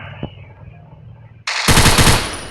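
Rapid automatic gunfire from a Vector gun in a video game, a loud sustained burst that starts suddenly after a quieter stretch of game noise.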